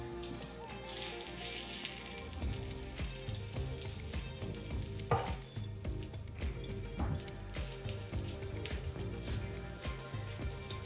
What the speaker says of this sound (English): Sift it around in the pan to make sure it doesn't get stuck to the pan.